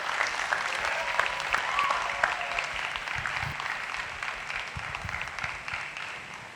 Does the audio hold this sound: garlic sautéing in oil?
no